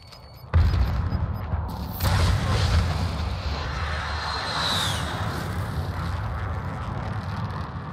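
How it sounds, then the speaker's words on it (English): A frag grenade blast in Modern Warfare comes as a loud, sudden burst, then a second heavy boom, with rumbling gunfire and battle noise carrying on underneath. "Strong frag grenade."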